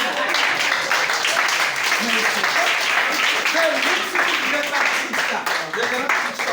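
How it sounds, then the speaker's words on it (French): Applause fills a church service, steady and sustained with dense clapping throughout, while voices carry on beneath it. "Acclamez pour frère William."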